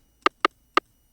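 Three crisp rim shot drum samples from a 90s house kit, sharp woody clicks spaced unevenly and played alone at moderate volume.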